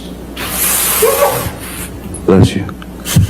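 A single breathy, hissing sneeze bursts out in a courtroom, followed by brief bits of nearby speech.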